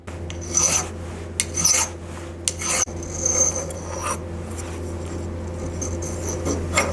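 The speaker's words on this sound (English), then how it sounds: "those nails are a little jagged. So what I'm going to do is going to file them down so they're a little more smooth." A file grinds down the jagged cut ends of nails used as wooden pins, with a steady run of close, rasping back-and-forth strokes, some louder bursts, and a faint low hum underneath.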